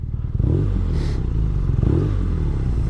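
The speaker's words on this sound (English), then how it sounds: "You rev it, because it's the old engine, and you get the older boxer engine" 2019/20 BMW R nineT with its older boxer engine, revved in short loud bursts over a close, rumbling idle, with no speech.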